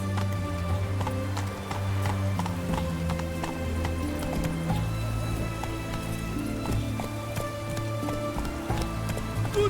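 Roach, Geralt's horse in the video game The Witcher 3: Wild Hunt, gallops in a steady, rapid rhythm of hoofbeats under game music and ambient rain-like patter, close and continuous throughout.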